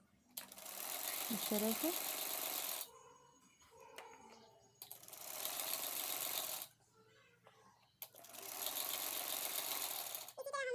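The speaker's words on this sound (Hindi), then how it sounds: "इसके बाद में मैं इसके ऊपर की तरफ एक और सिलाई मारूंगी" Bursts of a sewing machine stitching a blouse sleeve run in three long loud passes, with quiet gaps between them in which someone briefly speaks.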